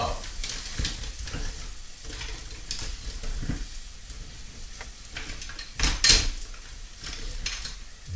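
Onions and herbs sizzling in a pan while a utensil stirs and scrapes, giving repeated clacks and rustling bursts over a constant frying hiss, with one sharper clatter midway and a faint voice at times.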